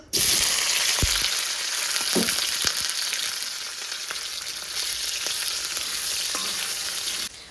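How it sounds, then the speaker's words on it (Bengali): Boiled potato pieces fry in hot oil in a wok, a loud, steady sizzle running the whole time with a few soft stirring knocks and no talk. "প্রথমে আমি আলুটা ভেজে নেব"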